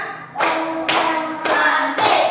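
Children in a classroom clap together in a call-and-response clapping game, with four sharp, loud bursts of group claps spaced about half a second apart after a brief quiet start.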